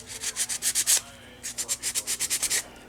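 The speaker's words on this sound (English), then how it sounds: "Nice sanding block with a little bit of a rubber handle, grippy handle" A rubber-handled sanding block rubs back and forth over a surface in quick, regular strokes, about eight in the first second, a brief pause, then a second run of around ten strokes, close and fairly loud with no talking.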